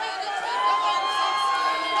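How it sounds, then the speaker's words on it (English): A crowd at a powerlifting nationals cheers and shouts steadily for a junior lifter on the platform, a dense, sustained roar of many voices holding at an even level for the whole moment. "Crowd's getting behind him."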